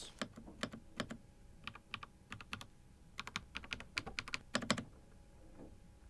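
Typing on an Aqirys Adara custom-style keyboard, a steady run of crisp, close key clicks and thocks in uneven bursts, heard alone with no talking.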